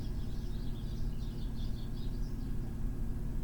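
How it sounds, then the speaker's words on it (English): Birds chirp outdoors in faint, quick twittering bursts over a low steady background rumble, with no voices. "Y'all hear all those birds?"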